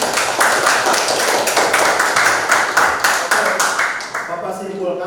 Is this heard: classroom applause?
yes